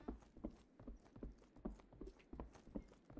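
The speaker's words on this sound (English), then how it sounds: "taming of the horse." Horse hooves clip-clop in a steady rhythm during horse taming in the Myth of Empires video game, a quiet repeated beat of hoofbeats with faint mechanical clicks, no talk.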